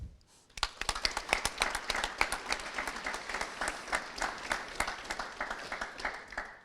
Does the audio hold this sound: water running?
no